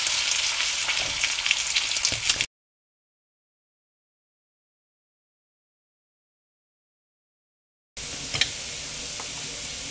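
Potatoes with a pinch of salt frying in a pan while being stirred, a soft continuous sizzle with light scraping, broken by a long silent gap midway, no voices.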